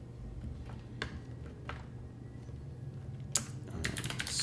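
Scattered keystrokes on a computer keyboard during coding work, a few sparse taps at first, then a quicker cluster of clicks near the end, close and fairly soft.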